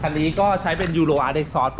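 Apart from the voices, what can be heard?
No distinct noise like a dog, phone or traffic.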